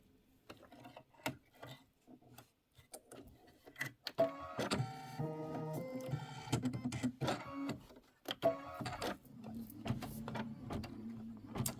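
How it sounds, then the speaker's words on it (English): An embroidery machine stitches a satin outline around a letterbox top for a Christmas quilt wall hanging. It starts with a few sporadic clicks, then runs steadily, loud and mechanical, from about four seconds to the end. "So it's stitching out the letterbox top satin outline."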